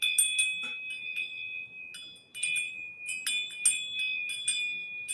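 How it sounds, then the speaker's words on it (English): A small bell rung repeatedly to clear the energy, with bright, sustained ringing tones sounding alone in a quiet room, struck several times in uneven clusters with short gaps between. "I'm going to ring the bell just a bit to clear the energy."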